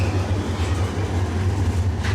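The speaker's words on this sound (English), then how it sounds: "And here comes the monorail." The Alton Towers monorail rolls past close by with a steady low rumble and faint rail noise throughout this short moment, loud and with no one talking over it.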